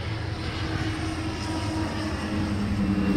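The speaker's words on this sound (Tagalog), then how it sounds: "ayan na yung eroplano na naman." A military airplane flies overhead near a military airfield, producing a steady, loud engine roar with a low propeller-like drone that swells slightly toward the end, without voices.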